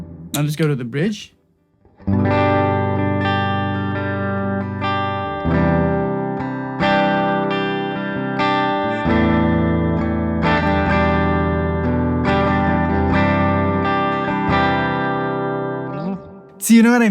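Gibson Les Paul Studio electric guitar on the bridge pickup, a run of sustained chords and single notes with a brighter edge, close and loud, preceded by a short squeal and a pause, with a scrape at the end.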